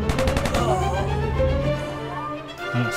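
Rapid gunfire from the AntiSquad tactical video game comes in a quick volley of loud, closely spaced shots. The shots give way to a lingering ringing tail and a low mechanical hum.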